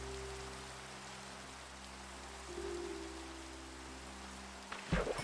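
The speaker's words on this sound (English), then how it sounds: "Unfortunately, as right now, it started to rain while we have been there hiking along." Faint, steady rain patters down along the Black Desert cliffs during a hike, a soft continuous hiss over a low hum, with a brief rustle near the end.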